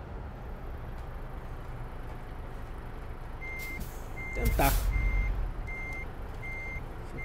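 Truck reversing alarm in Euro Truck Simulator 2 while parking at night: steady evenly spaced electronic beeps over low engine rumble, with a brief loud hiss of air brakes midway and a short spoken word.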